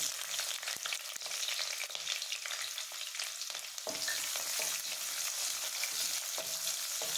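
Onions and green chillies fry in hot oil with cloves, star anise and shahjeera for kushka biryani, giving a steady, close crackling sizzle with occasional sharp pops and no talk.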